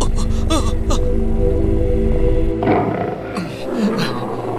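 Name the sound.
tiger roaring in a radio drama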